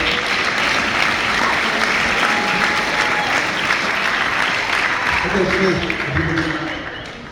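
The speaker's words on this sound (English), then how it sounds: "All right, one more big round of applause for Servite" Banquet audience at a high school track and field awards night gives a big, sustained round of applause, dense and steady throughout before tapering slightly at the end.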